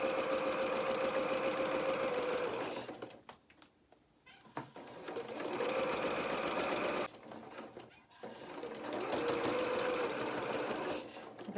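Sewing machine stitching bias binding along a coat hem, a steady close mechanical whir that runs in three bursts with short pauses between, no talk.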